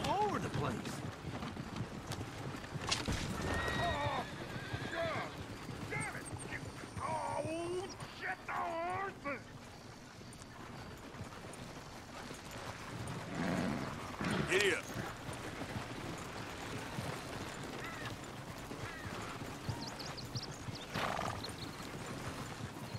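Hooves clip-clop along while a horse neighs and whinnies several times, with voices and other activity mixed in, and a dog barking briefly, in the video game Red Dead Redemption 2.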